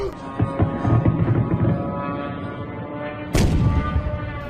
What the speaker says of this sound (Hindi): हाई राइज बिल्डिंग के बगल में ही ड्रोन ने धमाका किया है।